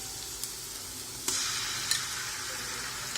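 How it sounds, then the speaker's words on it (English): Ginger garlic paste hits frying onions in a pan for chicken curry, giving a steady sizzle with a few sharp scraping clicks of stirring, fairly close and with no talk. "So this is the right time to add the ginger garlic paste."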